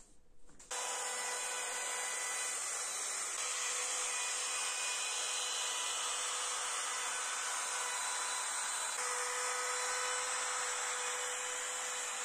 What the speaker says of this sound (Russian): А сейчас хочу сразу окантовочку сделать. Буду делать при помощи фрезера.